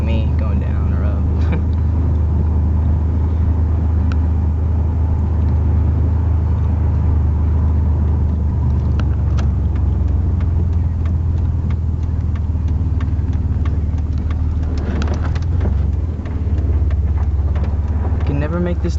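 A Dakota pickup truck's engine drones steadily throughout while driving, a low rumble close by, with faint talk and small knocks over it.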